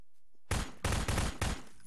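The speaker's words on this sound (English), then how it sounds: "What did you shoot at?" Gunfire in the video game Garry's Mod: three or four loud, dense bursts of rapid shots follow one another in quick succession after a brief quiet start, with no voices.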